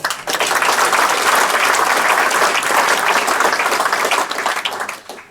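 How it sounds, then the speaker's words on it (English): Loud, dense applause from a concert audience at Mike Durham's Classic Jazz Party in Whitley, sustained evenly for several seconds before tapering off at the end. "I'd like to give a warm welcome and round of applause to Colin Hancock on trumpet."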